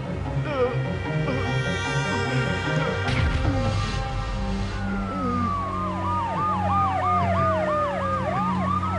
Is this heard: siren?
yes